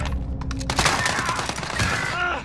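Shotgun gunfire in a Call of Duty Modern Warfare multiplayer match rings out in loud, overlapping blasts over game noise, with a few sharp reports and ringing tails in quick succession.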